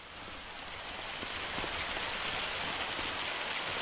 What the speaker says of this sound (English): It's got to be hailstones, right?